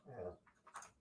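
A dog gives a low, rumbling growl followed by a couple of short whimpering whines, close by and fairly quiet, with no talking.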